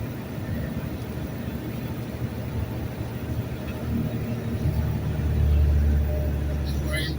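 A car engine straining in first gear at a crawl, a low, heavy rumble that swells louder toward the end, close and continuous under faint background noise.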